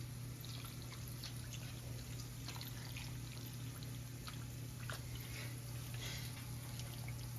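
Canned beef broth, a 10.5-ounce can, poured steadily into a pot for a meatball sauce, a continuous liquid trickle over a constant low hum.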